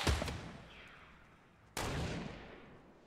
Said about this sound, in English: He's shooting through a wall for me.